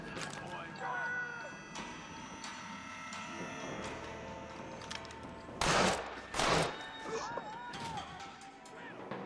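Gunfire from the Red Dead Redemption video game, set around an Irish mine, breaks out in a couple of loud, sharp bursts midway through, over steady game ambience. A player talks throughout.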